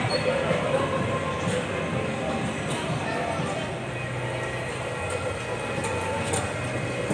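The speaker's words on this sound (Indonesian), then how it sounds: "Ayo dibalap tuh keretanya" A children's toy train ride rolls through a shopping mall with a continuous rumbling, rattling ride noise and faint clatter, set against steady indoor crowd hubbub and voices.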